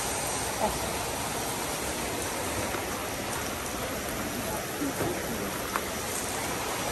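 Heavy rain drums down in a continuous close hiss, with occasional distinct drips and splashes breaking through the steady pour.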